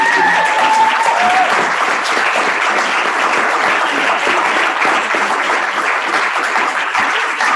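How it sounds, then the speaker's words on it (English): A conference audience gives sustained, loud applause, a dense wash of many hands clapping steadily without pause, with a brief voice audible near the start. "bitte Sie um einen kurzen, völlig unzeitgemäßen Applaus"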